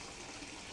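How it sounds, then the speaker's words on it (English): Water pours steadily into a bowl being filled for a vinegar soak for strawberries, a continuous close rushing gush with no talk over it. "Add more water."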